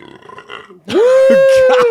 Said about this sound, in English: that was the most Republican burp I've ever heard in my life